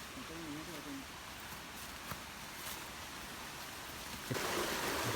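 Stream water flows through rainforest near Dunukaragoda waterfall, a soft steady rushing wash that swells louder near the end, with faint voices and a brief bird call early on.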